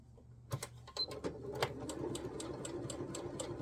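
A sewing machine stitches scrap fabric using a quarter-inch seam, starting with a few clunks and then settling into a fast, steady mechanical rattle of needle strokes, close and fairly quiet, with no talking.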